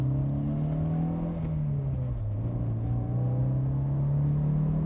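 A Mercedes-Benz 190E 2.3-16 pulls through the gears on a racetrack, its engine droning loud and close. The pitch dips briefly at a shift, then holds steady and climbs again.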